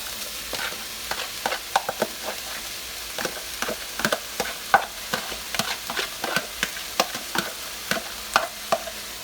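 Chopped carrot, celery, red and green onion and garlic are stirred into seasoned meat frying in a pan for lasagna. A steady sizzle runs throughout, broken by repeated scraping stirs and clacks of the utensil against the pan, close and with no talking.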